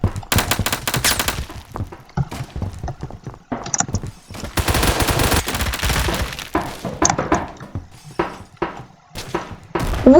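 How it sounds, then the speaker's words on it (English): Loud Phantom Forces gunfire rattles in rapid bursts, with a grenade explosion and shattering debris among them. The shots are near and dense, cutting out in brief gaps before resuming. "I threw a grenade and he was just staying there"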